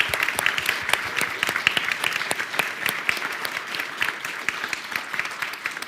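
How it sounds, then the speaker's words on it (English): A conference audience applauds: dense, steady clapping from a sizeable crowd that holds for several seconds and tapers slightly toward the end. "could we please give them a small or a round of applause?"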